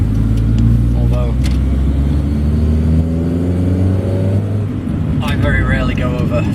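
Triumph Acclaim with its Honda overhead cam engine revving while driving, the engine note climbing steadily in pitch over several seconds and then dropping off, close and loud with road noise.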